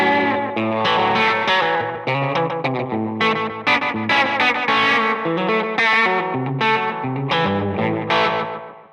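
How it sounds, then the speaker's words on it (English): Electric guitar played through a pedalboard with a short slapback delay, bright chords and single notes ringing with a quick repeat and slight grit, loud and continuous with no talking. "pretty simple slapback."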